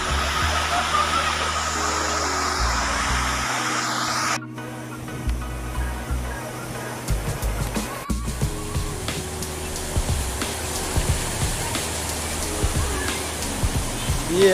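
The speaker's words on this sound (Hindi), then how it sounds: "उसी पर से ये गिरता है। यही वाटरफॉल है" Usri waterfall in Giridih, water pouring over large rocks into a river where people bathe, a broad steady rushing roar with splashing, heard up close and fairly loud, with a sharp shift partway through.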